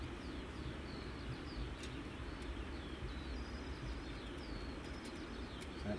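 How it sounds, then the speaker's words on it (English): Faint birds tweeting and chirping intermittently in the distance in the early morning at Luton Airport, over a steady low rumble of background noise. "You can hear the birds tweeting away first thing this morning here at Luton."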